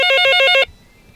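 A mobile phone's song ringtone plays loud and close during a temple livestream in Chiang Mai, repeating a bright melodic phrase for about half a second before cutting off abruptly into quiet.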